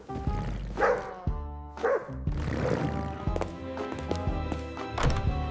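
A dog barks repeatedly nearby, several loud, resonant woofs spaced about a second apart with a tonal, almost musical backdrop.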